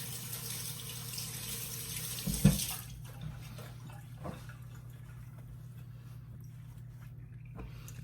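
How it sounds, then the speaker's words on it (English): Tap water runs into a kitchen sink while hands are washed between steps of mixing corn cake batter by hand, a steady close splashing wash that stops after about three seconds, leaving quiet room tone. "Wash my hands."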